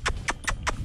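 Hooves of a ridden ox strike the ground in four evenly spaced, crisp clops at a steady walking rhythm, fairly close and fairly faint.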